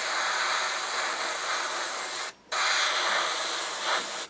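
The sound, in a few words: airbrush spraying paint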